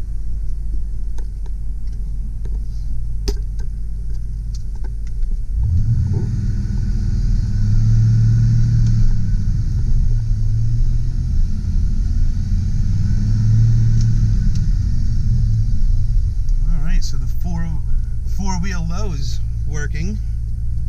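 A 1989 Ford F-250 XLT with a 5.0L V8 and manual gearbox cranks and catches around the middle, then settles into a deep steady idle rumble close by, with someone talking over it near the end.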